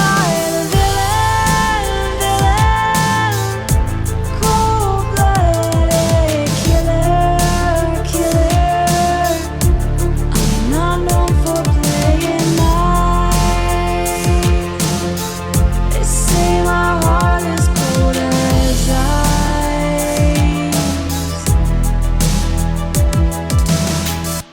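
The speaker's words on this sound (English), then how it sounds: "this track is quite orchestral. It has a really soft voice and really hard-hitting drums." Orchestral pop chorus with a soft, breathy vocal over lush strings and hard-hitting drums, dense and loud throughout with punchy beats driving steadily beneath the sustained harmonies.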